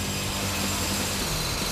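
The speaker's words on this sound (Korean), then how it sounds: "기계 송곳을 이용해서 바닥을 뚫는다." Continuous grinding drone of a power drill boring into a hard cement floor during traditional ondol floor-heating construction work, a loud unbroken mechanical whine with rough, gritty texture throughout.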